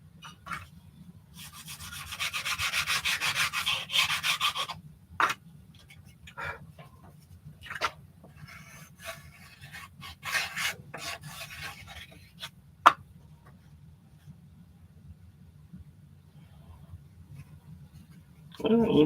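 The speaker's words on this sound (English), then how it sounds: "A little more sand to go." Wood is sanded by hand, giving a long steady rasping rub followed by shorter intermittent strokes. It sits close in a room with a constant low hum, and people talk at times.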